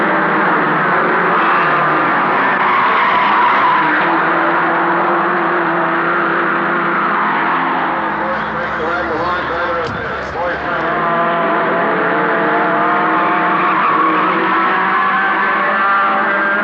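A fast car drives hard with a steady engine roar and tyre noise, with a brief squealing skid in the middle, loud and continuous throughout.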